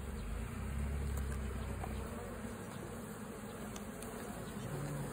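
Honeybees in an opened beehive during a hive inspection: a dense, steady buzzing drone fills the scene, close and continuous, with a few faint handling taps and no talking.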